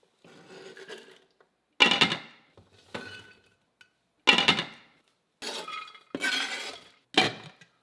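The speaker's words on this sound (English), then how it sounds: "Okay, throwing the onions in." Chopped onions tumble into a cooking pot in several separate bursts, each a quick clattering rush of pieces against the pot, close and fairly loud with short pauses between.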